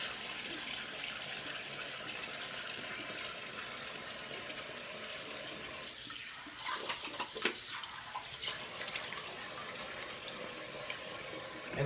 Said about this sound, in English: you're going to want to start washing your face now with the cold water